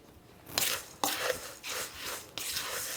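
Apple crisp topping with coconut sugar being stirred and pressed in a bowl, producing close, gritty crunching scrapes in several separate strokes.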